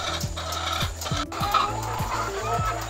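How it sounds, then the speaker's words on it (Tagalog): Hungry laying hens on a small egg farm cluck steadily while eating, a dense, close chorus of repeated clucks alongside rhythmic mechanical-sounding pulses. "Gutom na gutom ang ating mga manok."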